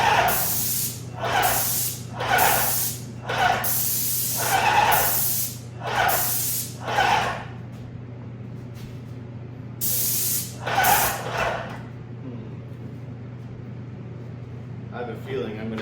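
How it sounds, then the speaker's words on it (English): A paint sprayer fires in repeated hissing bursts while refinishing cabinets, roughly a dozen short pulls with brief gaps, then two more bursts after a pause, over a steady low hum with a voice speaking between. "So let's do some spraying real quick and make sure we don't spray stuff that doesn't need spray."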